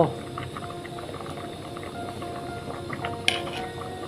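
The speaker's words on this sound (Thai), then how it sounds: "ข้าวต้มของเรานะคะ เดือดจัดแล้วค่ะ" A pot of rice porridge with carrot, potato and ground pork bubbles at a rolling boil, with soft continuous burbling and popping, quiet and close, and one brief sharp clink near the end.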